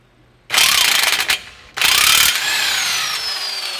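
Ratcheting tool working on the strut bolts of a Nissan Rogue during a front passenger side CV axle change: two loud, close bursts of rapid clicking, the first about a second long and the second running longer before easing into a steady whirr.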